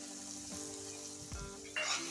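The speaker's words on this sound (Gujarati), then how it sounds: "હવે આદુ અને ડુંગળીને આપણે સરસ રીતના સતળવા દઈશું એટલે સોનેરી કલર થઈ જાય" Chopped onion and grated ginger frying in oil for an eggplant curry, a soft steady sizzle with a brief stir and a faint clunk near the end, quiet and close, no voices.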